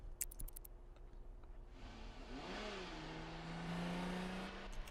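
A car in the video game The Sims 3 starting up and driving away, a few ticks followed by a rising engine swell and a steady hum that holds to the end, fairly faint.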